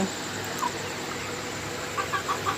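Kadaknath (koyla) chickens, about 23 days old, clucking faintly at a poultry farm amid a steady background hiss, with a few soft, scattered calls toward the end.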